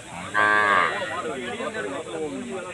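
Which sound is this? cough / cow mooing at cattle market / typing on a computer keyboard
cow mooing at cattle market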